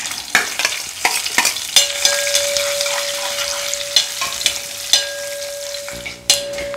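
Mustard seeds, rice grains, chili and curry leaves frying in hot oil, a steady sizzle broken by sharp spoon scrapes and taps against the pan, a faint tone ringing through the middle.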